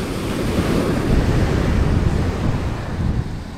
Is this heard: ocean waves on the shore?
yes